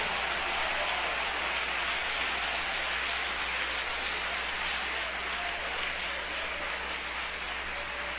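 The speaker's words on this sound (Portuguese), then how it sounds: "Você pode dar uma forte salva de palmas para Jesus?" Church congregation clapping together in a sustained, even wash of applause, soft and somewhat distant, holding steady with no break.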